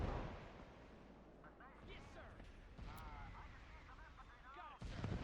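Mortar fire during a huge US Marine invasion of Iwo Jima in a battle simulation game: faint, distant dull thuds and blasts beneath a rumbling battlefield bed, with soldiers' voices calling out over it.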